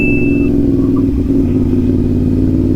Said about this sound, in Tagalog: Ayun ang Pajero. Ingay talaga.